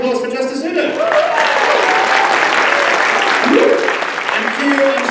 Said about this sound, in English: One more huge round of applause for Justice Udo.